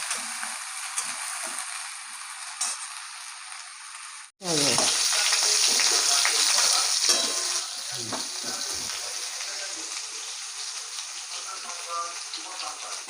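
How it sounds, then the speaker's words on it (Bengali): Cauliflower florets fry in hot oil in a pan, a steady bright sizzle that jumps louder as pieces go in and then settles into a continuous crackle with no talking. "ভেজে নেবো কপিগুলো"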